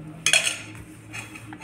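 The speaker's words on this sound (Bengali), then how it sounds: "এই পাত্রটায় ঢেলে নিলাম।" Cooked carrot semai made with milk tipped from a pot into a serving dish: a sharp metallic clink and scrape at the start, then softer utensil clatter and faint clinks trailing off, close and fairly quiet, no talk.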